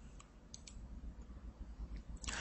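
A few faint, sharp computer mouse clicks land sparsely over a low background hum while saving a template in practice-management software, with a slightly louder click near the end.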